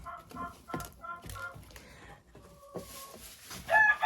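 Productive backyard hens, including Czech crested and silver Adler breeds, cluck in short soft bursts close by, with faint chatter from the flock and a louder squawk near the end.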